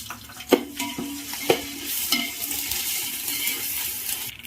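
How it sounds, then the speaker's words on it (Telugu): Onions fried with ginger garlic paste for Hyderabadi dum biryani sizzle steadily in a pan, broken by a few sharp scraping stirs early on, no voices. "ఆనియన్స్ బాగా ఎర్రగా వేగినాక అల్లం వెల్లుల్లి పేస్ట్ వేసుకోవాలండి 2 స్పూన్లు."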